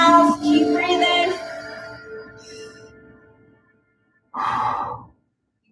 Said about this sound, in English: Every time I lift, I let my air out. In through the nose, out through the mouth, keep breathing.